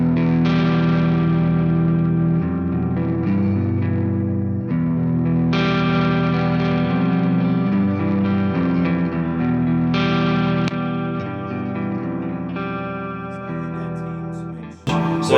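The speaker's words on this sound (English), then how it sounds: "So that's Sunn stock Model T sound." Electric guitar played through a Sunn Model T clone amplifier on its stock setting with a little reverb, loud and sustained with thick distorted chords ringing out in phrases across the whole stretch, no voices.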